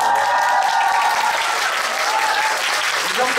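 Sustained audience applause in a theater during a post-show talk for the musical 'Gwangyeom Sonata', dense and even throughout, with a faint voice sliding in underneath.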